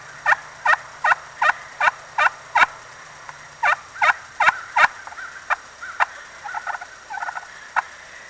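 A slate turkey call imitates an old hen with a steady series of about a dozen evenly spaced, raspy yelps, then a few softer, broken clucks and a last single yelp, close and clear against quiet.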